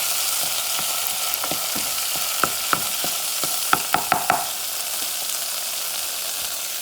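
Olives and vegetables sizzle in a hot pan as the base for Cuban-style black beans, a steady frying hiss broken by the sharp taps and scrapes of stirring that cluster near the end.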